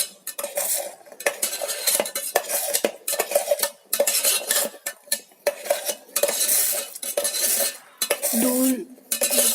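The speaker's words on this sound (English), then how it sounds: "You have to stir this continuously, otherwise it can burn." A spoon stirs egg inside an electric kettle, metal scraping and clinking against the pot in quick, close, irregular strokes over a faint sizzle of egg cooking.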